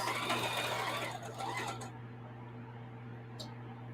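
Sewing machine stitching an appliqué quilt, a steady close motor whir with rapid needle chatter that runs for about two seconds, then stops, leaving a low hum and a brief click.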